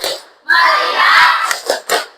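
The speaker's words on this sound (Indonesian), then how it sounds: "ya, tepuk tangan" Children in a classroom clap along to a chant, a burst of sustained clapping followed by a few sharp separate claps, close and loud, with a shouted voice mixed in.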